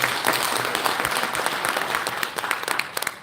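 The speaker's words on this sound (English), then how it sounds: "Please give them an applause." An audience at a Uganda National Examinations Board session applauds the presenters: a full crowd clapping, strong at first and easing slightly toward the end.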